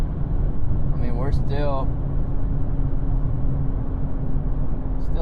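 A vehicle engine idles with a light touch of throttle while the G80 transmission warms up, a steady low rumble running the whole time, with a person talking briefly over it.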